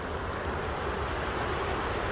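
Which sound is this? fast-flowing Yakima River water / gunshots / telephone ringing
fast-flowing Yakima River water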